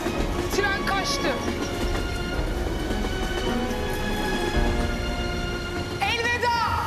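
A train pulls away from a station with a continuous rolling rumble and clatter, high metallic wheel squeals rising near the end, loud and close throughout.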